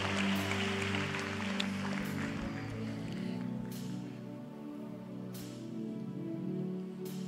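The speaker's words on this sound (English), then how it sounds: "Somebody give a great big hand clap." A church congregation claps in a dense patter that fades over a few seconds, with sustained musical tones continuing underneath.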